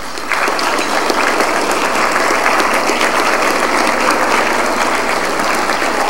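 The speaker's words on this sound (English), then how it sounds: "would you please stand so we can give you a round of applause" An audience at a Tarleton football Hall of Fame induction ceremony applauds the standing Hall of Famers, giving dense, steady, loud clapping from a large crowd that continues throughout.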